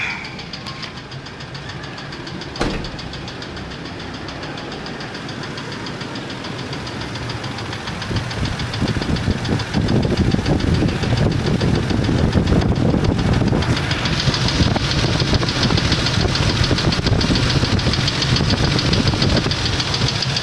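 Older Ford F-150 engine running in a shop, a steady idle with a ticking knock that grows louder and rougher about halfway through, continuing evenly to the end.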